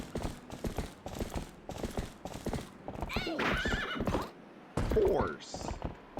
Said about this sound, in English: Horse noise.